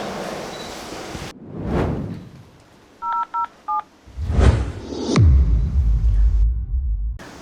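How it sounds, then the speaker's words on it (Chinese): A string of quick touch-tone beeps as a number is dialed, three short tones then a gap and one more, set among rustling and low rumbling handling noise. "我现在就给医生打电话确认一下"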